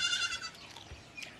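Several goats bleating outdoors as they are led off to graze, a couple of thin, wavering calls near the start and another brief cry toward the end, fairly faint over open-air background noise.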